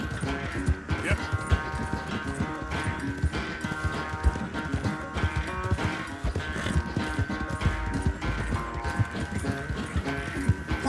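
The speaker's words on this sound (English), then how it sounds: "Cara, meu cavalo tá na minha cola." Horse hooves clip-clop steadily in Red Dead Redemption 2, a continuous rhythmic trot sitting under a dense bed of background music at moderate loudness.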